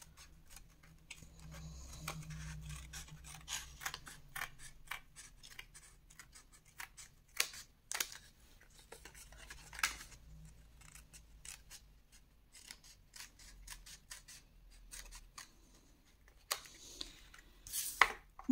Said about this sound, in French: surtout en découpant, faites bien attention, voilà, de couper bien bord à bord, de ne pas couper dans la pièce